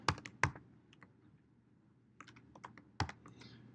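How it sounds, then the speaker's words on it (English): Someone types on a computer keyboard in irregular bursts of crisp key clicks, some sharper strokes standing out among lighter taps, close by and fairly quiet, with no speech. "when I'm typing AWS S3 LS or AWS IAM list policies"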